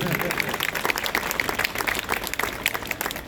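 An audience applauds a street play staged for a Women's Day celebration, lively clapping with sharp individual claps standing out from a steady patter, and a voice speaking over it.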